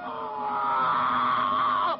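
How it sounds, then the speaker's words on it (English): Screams of torture victims in a horror film trailer, one sustained high wail held loud and steady for about two seconds before cutting off abruptly. "The screams of his victims still echo in his chamber of horrors."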